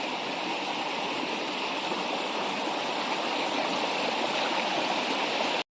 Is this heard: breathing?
no